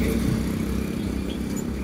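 A car pulls away in first gear while a driving lesson goes on, giving a loud, close, low engine drone that holds steady for a brief moment inside the cabin.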